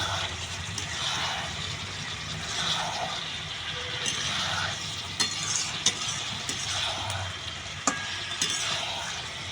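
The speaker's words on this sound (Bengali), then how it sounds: "হালকা করে নাড়তে হবে।" A spoon stirs egg chilli gravy in a frying pan, the scraping and stirring running steadily over a constant sizzle, with a few sharp clinks of utensil against the pan near the end.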